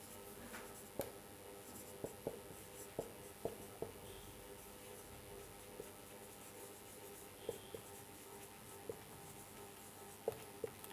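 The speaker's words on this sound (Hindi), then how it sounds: "और दूसरा सेंटेंस मैं यहां पर और लिखता हूं" Chalk or marker writing a sentence on a classroom board, faint isolated taps and short strokes spaced irregularly over a quiet room background, with no talking.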